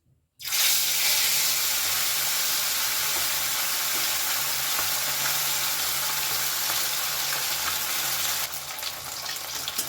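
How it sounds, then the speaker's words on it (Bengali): Amud fish frying in hot mustard oil in a kadai, a loud sizzle that bursts in at once and holds steady and close, easing slightly toward the end. "তেল গরম হয়ে গেছে এবার আমি মাছগুলো ভেজে নেব"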